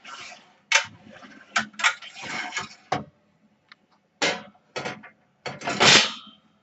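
Grill pan of a Hotpoint Ultima double oven dragged along stiff runners, jerky bursts of metal scraping and clunks separated by short pauses, close and fairly loud.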